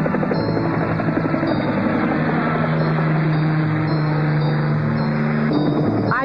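A steady, loud helicopter drone with a constant rotor thrum fills the scene, holding evenly throughout without pause.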